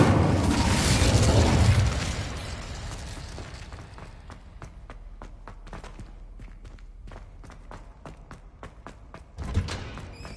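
The Incendio fire spell is cast in a video game, releasing a loud, roaring whoosh of flame at the start that fades into quiet footsteps and small clicks, with a brief thump near the end.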